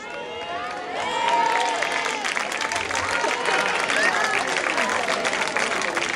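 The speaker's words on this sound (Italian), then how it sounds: "Un applauso a tutti" An audience applauds and cheers after a Caribbean-style dance at a song festival, with continuous clapping swelling after the first second and crowd voices mixed in.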